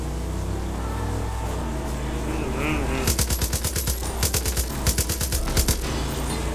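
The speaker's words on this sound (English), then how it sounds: "I kind of like this gun sound though." A .50 caliber machine gun fires in a video game: rapid, loud bursts of closely spaced shots in three or four strings over a steady low hum.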